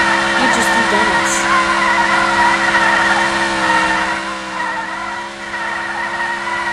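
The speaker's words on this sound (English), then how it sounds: "You just do donuts." A car in front-wheel drive spins donuts, its tires skidding and squealing continuously over a steady engine roar, loud and close throughout.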